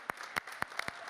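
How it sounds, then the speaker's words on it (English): Applause for a hackathon team at an awards event, a brief patter of a few distinct claps over low crowd noise, fairly near and short-lived. "Kairos, give me a warm round of applause."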